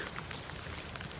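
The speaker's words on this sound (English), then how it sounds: "It is raining." Light rain falls steadily outdoors during a walk, a soft, even patter of drops close by with no voices.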